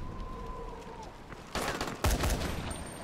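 A few sharp, loud bursts of gunfire in the video game Dying Light: The Following ring out in the second half, cutting through a steady background hum and a faint tone.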